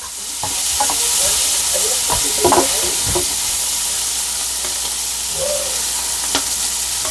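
Okra (ladyfinger) frying in a pan with more hot oil added, giving a steady close sizzle broken by scraping stir clatters and a few sharp pops, with no voices.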